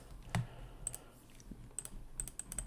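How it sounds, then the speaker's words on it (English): Password being typed on a computer keyboard, likely a Surface Pro, with scattered light key clicks in short bursts at close range against a quiet background. "we're just going to type in a quick password here"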